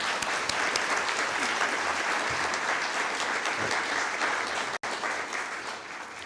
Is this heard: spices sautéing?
no